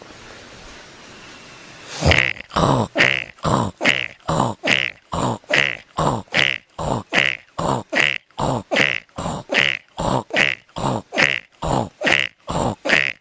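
A voice imitates a frog croaking, with a long, rapid, steady series of loud, rough, throaty pulses following a few seconds of quiet background.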